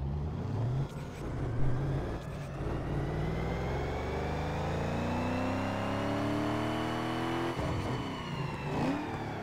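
A Lincoln Navigator 5.4L V8 in Need For Speed Underground 2 revs on a dyno. The engine note climbs steadily over several seconds with a rising, droning pitch, then drops back and surges again, loud and continuous.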